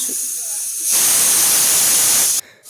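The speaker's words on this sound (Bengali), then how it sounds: "এখানে প্রেসারে আমি ভাত বসিয়ে দিলাম।" A pressure cooker of rice on the stove gives a loud, steady hiss of steam that builds and holds for a couple of seconds before cutting off sharply.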